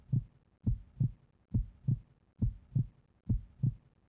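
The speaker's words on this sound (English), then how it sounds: "Just does a heartbeat." Heartbeat sound effect from the Goosebumps: Escape from Horrorland video game: a steady, low, soft double thump repeating about every 0.9 seconds, alone and fairly quiet.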